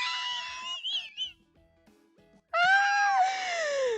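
Video game cats mew in high, bright, drawn-out cries, a cluster of meows, a short quiet gap with soft clicks, then a louder sustained meow chorus close up.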